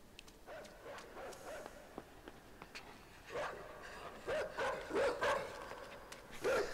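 A dog in the video game INSIDE barks and yips in short bursts, faint at first and then louder and closer in clustered yelps over a hissy background.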